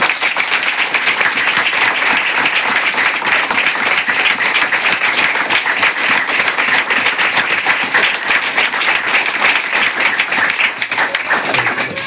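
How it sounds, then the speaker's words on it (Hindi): A church congregation claps loudly and continuously for about twelve seconds, a dense, even roar of many hands with no pause and little voice over it. "एक साथ प्रभु यीशु के लिए जोरदार तालियां।"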